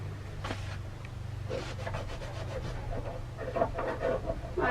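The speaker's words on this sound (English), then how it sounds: "So I'll give this one a quick rub down" An old hand tool is rubbed down by hand with steady back-and-forth scraping strokes, fairly close, over a low background hum, with no one talking.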